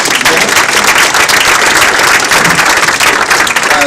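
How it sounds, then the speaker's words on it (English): Loud, dense applause from a large audience at a county Democrats' clambake, steady and sustained without a break, close and filling the space. "Let's give him a big round of applause."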